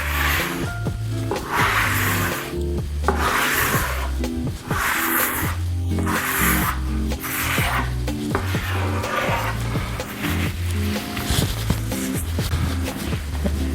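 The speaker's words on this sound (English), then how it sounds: "As you can see, I'm also rubbing across the wood grain, get it nice and even." A rag rubs finish across the cedar grain of a vintage waterfall cedar chest, making repeated back-and-forth swishing strokes about once a second over steady background music.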